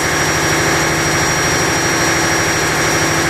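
A ship's 390-volt generator runs continuously at a steady drone with a low rhythmic throb and a faint high whine, loud and close in the engine room, with no voices over it.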